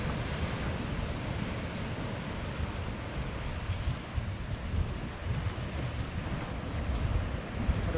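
Large ocean waves break against a rocky shore during land-based rock fishing, a steady loud roar of surf mixed with wind buffeting the microphone and no voices.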